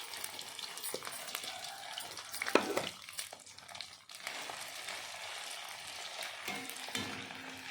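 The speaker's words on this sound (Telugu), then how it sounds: "ఇప్పుడు మనం ఈ రొయ్యలను ఫ్రై చేసుకుందాం" Prawns fry in hot oil with a dense, crackling sizzle, broken by a few louder pops and splutters near the start, then settling into an even, close frying hiss.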